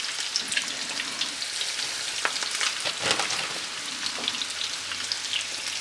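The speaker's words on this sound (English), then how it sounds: "Wow, listen to that sizzle." Continuous close sizzling and spitting of walleye fillets frying in a pan, with scattered sharper pops and no voices.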